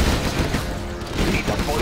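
A Gatling tank in the real-time strategy game C&C Zero Hour fires its spinning-barrel machine gun, a dense unbroken rattle of rapid shots with game voice lines mixed in.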